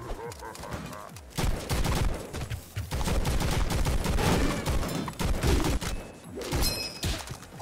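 Gunfire in the video game Madness Combat, dense rapid shots and bursts in uneven clusters, loud and close, with a few thumps between volleys.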